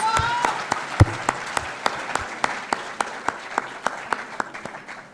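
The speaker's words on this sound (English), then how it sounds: "Please clap for Cherise." An audience at a youth leadership selection event claps for a candidate, a close, steady stream of sharp individual claps in a brisk rhythm that carries on throughout, with a faint voice near the start.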